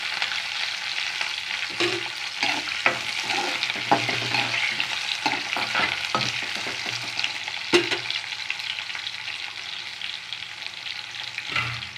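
Mudakathan greens with curry leaves sauté in a hot pan, giving a continuous close sizzle with occasional sharp clinks and scrapes of a spoon stirring, steady throughout and without talk.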